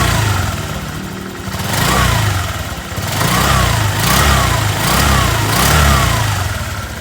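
A Honda Click 125 motorcycle engine idles and revs in repeated swells, with a constant whooshing noise from an installed PCX 150 radiator fan running underneath throughout.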